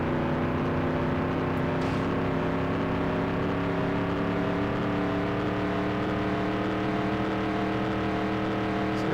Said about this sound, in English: So it sounds like Terry is pitting now